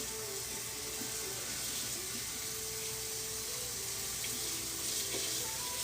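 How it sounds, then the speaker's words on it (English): Tap water runs steadily into a sink while a tie-dye shirt is rinsed, a continuous hissing splash at moderate level with no speech. "We are rinsing tie-dye tonight."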